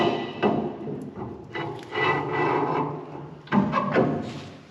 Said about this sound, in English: now we'll be able to slide the axle in